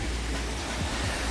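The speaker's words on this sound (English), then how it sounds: "Waterfall Kaya-Bunar." The Kaya-Bunar (Khotnishki) waterfall in Bulgaria pours with a steady, broadband rushing hiss of falling water, constant and fairly close, with no voices.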